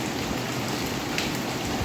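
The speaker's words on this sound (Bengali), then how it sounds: "এই এদের টিনের শব্দে বৃষ্টির ইয়েটা ভালো লাগে, বৃষ্টির শব্দটা টিনের ধরে।" Rain drums on a tin roof during a heavy storm, a loud, steady, close patter of drops with no voices.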